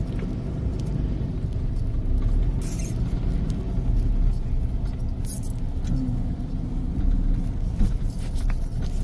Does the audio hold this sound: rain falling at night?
yes